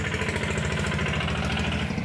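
A Kubota L4018 tractor with a front loader idles steadily with a low, rhythmic chugging and no voices.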